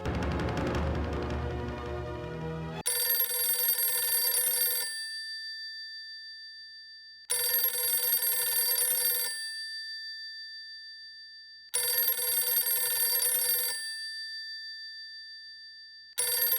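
A phone rings in repeated electronic bursts, each about two seconds long with short pauses between, loud and close, after a brief stretch of other sound.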